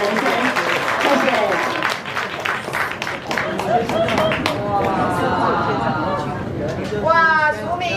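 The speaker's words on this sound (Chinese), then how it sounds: "你们给老师给一个掌声" Applause from an audience at a chef's restaurant event in Tainan, a dense, sustained round of clapping mixed with crowd chatter and voices, with cheering and a brief whoop near the end.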